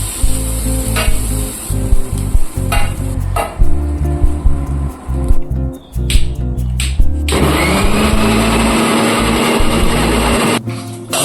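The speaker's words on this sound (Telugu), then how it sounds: "అందులో వేసుకున్నాక ఇలా మిక్సీ పట్టుకోవాలి" A kitchen mixer grinder jar blending half-fried egg curry masala: several short, loud motor bursts start and stop, then a steady whirring grind runs on, with a rising hum.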